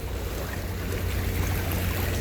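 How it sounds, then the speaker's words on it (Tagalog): Strong sea waves wash and churn nearby alongside a steady low engine-like rumble, continuous and fairly loud with no voices. "Oh, lakas sa alon guys,"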